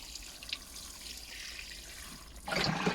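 Water pours from a watering can onto a freshly sown vegetable bed for carrots and parsnips, a steady gentle trickle that suddenly swells into a louder, closer splash near the end.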